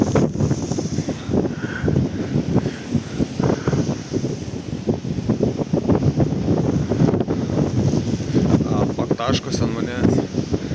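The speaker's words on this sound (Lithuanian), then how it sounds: "Truputį vėjas užkilo šiandien." Strong wind at Keflavik, near the airport and town, roars and buffets the microphone without a break, a dense gusty rumble that runs under a voice speaking throughout.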